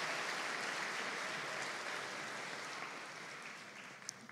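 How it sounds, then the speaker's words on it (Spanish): A congregation at a Palm Sunday Mass applauds, a soft, distant wash of many hands clapping that holds steady and then gradually tapers off. "Démosles un aplauso muy fuerte."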